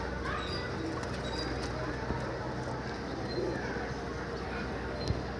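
Pigeons at a sky pigeon loft in the afternoon, soft cooing nearly buried in a steady wash of outdoor background noise, with the occasional light knock or flutter.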